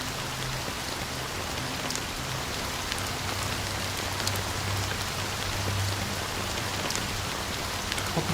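Steady rain falls in a dense, even hiss that fills the whole stretch, constant and fairly loud, with no voices, in the video game Honkai: Star Rail.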